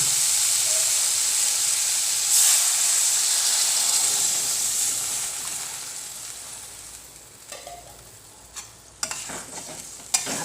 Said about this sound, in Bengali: মশলাটা আমার পুরো ভাজা হয়ে গেছে। এখন আমি এর মধ্যে জল দিচ্ছি।